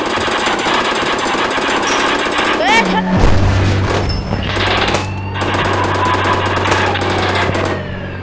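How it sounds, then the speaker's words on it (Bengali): Gunfire in the GTA video game, with rapid automatic bursts rattling loudly over engine hum and a tonal in-game sound, continuous and dense throughout. "গুলি মারব।"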